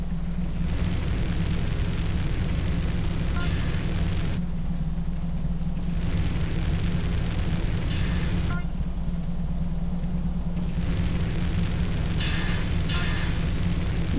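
The player character burns in GTA San Andreas, a continuous crackling, roaring noise with a low rumble beneath, loud and steady, broken by a few brief sharper bursts.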